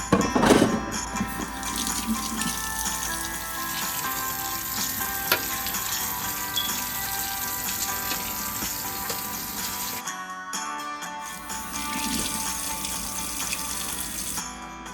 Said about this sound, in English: just rinsing my dishes here